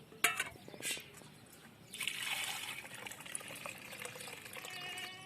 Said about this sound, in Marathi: आपण आता दुसऱ्यांदा पण चांगले धुवून घेऊ